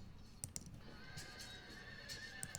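Horse neighing in the Field of Glory II strategy game, a faint whinny under a low, steady battle ambience, with a few light clicks and hoof-like taps.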